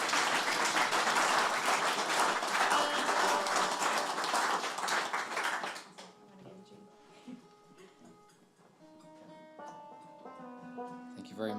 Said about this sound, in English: And also give a round of applause for Janet here hosting this awesome series,